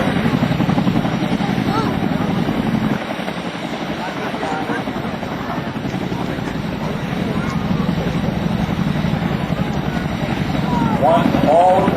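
MH-47E Chinook twin-rotor helicopter hovering at the 2007 Joint Services Open House airshow, a loud continuous pulsing rotor thrum and engine whine close by, with an announcer talking over it.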